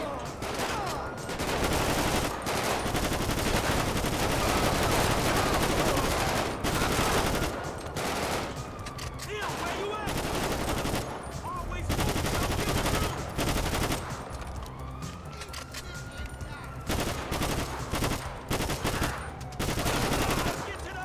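Sustained automatic gunfire and explosions from Grand Theft Auto V with the GTA 5 Redux mod, loud and dense throughout with brief pauses between bursts, a voice speaking occasionally over the shooting.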